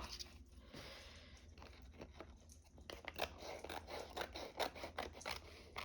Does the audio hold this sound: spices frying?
no